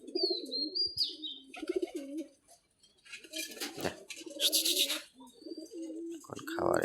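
Pigeons with clipped wings coo in low, repeated bursts through most of the stretch, kept alongside chickens that are feeding, with a person talking over them.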